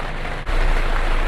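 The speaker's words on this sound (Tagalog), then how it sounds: "dire-diretso ang ulan dahil may bagyo" Heavy, continuous typhoon rain pours down nonstop on a semi-outdoor reptile setup, a loud, dense hiss with no pause.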